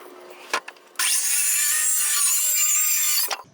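A saw trims plywood in a shop, starting with a few short knocks and rubs, then one sustained, loud, close cutting stretch of about two seconds before it stops.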